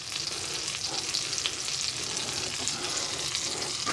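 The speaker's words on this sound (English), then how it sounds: "Olive oil, touch of butter in the pan." Olive oil and a touch of butter sizzling in a pan before fish cakes go in, a steady dense hiss with light crackling, close and even throughout, no voices.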